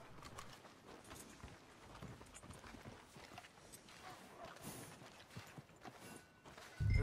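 Horse hooves clip-clopping at a walk in the video game Red Dead Redemption 2, a faint, uneven patter of footfalls under quiet ambience, ending in a sudden louder low thump.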